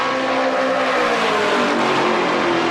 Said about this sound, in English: Every time they go by, Dave, I love the sound of those motors at full song